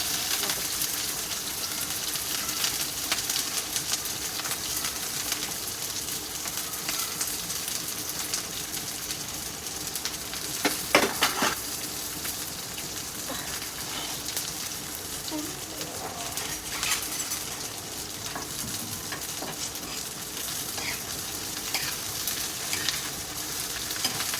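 Steady sizzling of food on a very hot pan, continuous and close, with scraping and stirring noises now and then.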